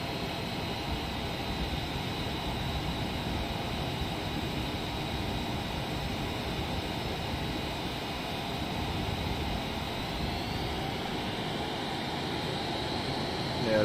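Steady engine roar of an F-18 fighter jet in Microsoft Flight Simulator 2020 flying over Iran, a constant broad whine and rumble at moderate level throughout.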